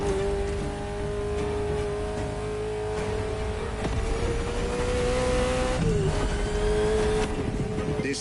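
A Ferrari sports car engine in the racing game The Crew Motorfest, a loud sustained drone that holds its pitch and briefly dips near the end, with faint tire noise underneath.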